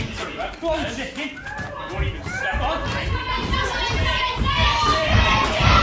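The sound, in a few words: wrestling crowd chanting chicken at Ace Jordan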